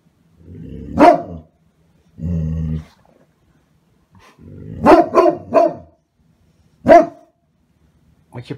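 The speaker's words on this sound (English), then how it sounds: "You're just barking for the heck of barking." Great Pyrenees dog giving deep, booming barks mixed with low growly grumbles, close and loud, in irregular bursts with silent gaps between.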